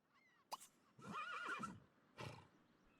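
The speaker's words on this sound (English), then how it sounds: "The horse found it." A video-game horse gives a clear whinnying neigh, preceded and followed by brief snorting and hoof sounds, moderately loud with no talk over it.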